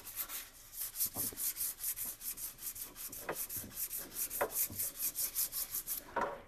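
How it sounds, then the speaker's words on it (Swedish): Hand sanding the body of a 1965 Volvo Amazon with ordinary sandpaper, a close, rhythmic back-and-forth rasping in steady strokes that repeat about twice a second. "när man håller på och slipar så här med ett vanligt slippapper"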